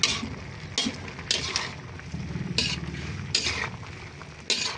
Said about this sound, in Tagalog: Haluin po natin paminsan-minsan yan para pantay ang luto ng ating gulay.